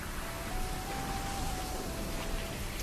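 Steady rain hiss from the pixel-art pirate game Pixel Piracy, a broadband wash that runs evenly throughout with a faint tonal hum beneath and no talking.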